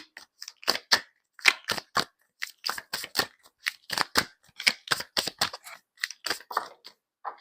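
Oracle cards being shuffled by hand, a quick run of crisp, close riffling flicks and taps in short bursts, with brief silent gaps between them and no talking.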